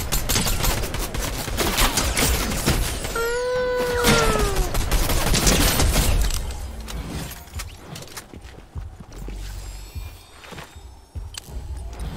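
Gunfire in the Fortnite video game: dense, loud bursts of shots and clatter fill the first six seconds, then sparser single shots and footsteps continue more quietly.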